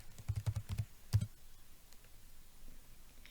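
Typing on a computer keyboard while entering a name into a search form: a quick burst of close, crisp key clicks, a pause, then a couple more taps before it falls quiet.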